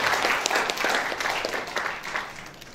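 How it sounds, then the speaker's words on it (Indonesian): Steady, dense clapping from a ceremony audience at the Kediri Regent handover, sustained throughout at moderate loudness with no talk over it. "Dan boleh berikan tepuk tangan yang luar biasa"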